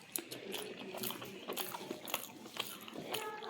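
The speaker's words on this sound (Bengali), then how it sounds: "খাচ্ছি আলু সিদ্ধ আর ঘি দিয়ে।" Someone eats boiled potato mashed with ghee and hot rice, with soft, close bites and chewing repeating in a quiet, uneven rhythm, no talking.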